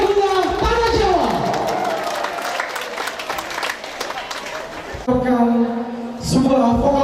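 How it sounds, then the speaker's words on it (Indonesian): Audience clapping and cheering for students at a school farewell and arts show, loud crowd applause under an announcer's amplified voice, with music tones entering toward the end. "Sekali lagi tepuk tangan buat anak-anak kreatif Bina Guna Tanah Jawa."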